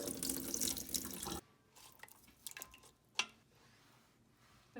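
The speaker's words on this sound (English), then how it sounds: "Rinse the frozen pea." Frozen peas rinsed under a running kitchen tap: a loud gush of water at first, then the flow stops, leaving faint drips and small wet clatters, one sharper knock.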